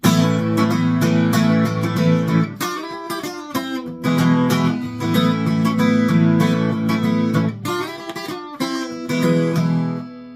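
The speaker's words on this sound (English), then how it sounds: "he's doing like a folk trick, which is doing loads of hammer-ons while you're strumming" Busy acoustic guitar playing with fast strummed chords and quick hammer-on melodic flourishes, loud and continuous with brief dips between phrases, no voices.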